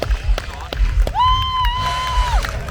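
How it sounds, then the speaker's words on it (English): A crowd cheers and applauds at a bike skills arena show after a rider's jump on a Husqvarna Norden, with whoops, a long sustained whistle or shout, and scattered claps. "let's have a huge round of applause for Lyndon"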